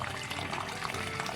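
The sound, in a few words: water trickling inside a borewell pipe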